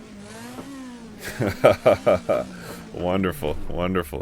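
A Zack Speed Ford race car of around 500 horsepower in Assetto Corsa, its engine droning and rising at first, then sitting low beneath someone talking.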